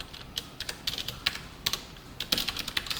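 Quick irregular keystrokes on a computer keyboard while Java code is typed, a close run of light clicks in short bursts with brief pauses between them.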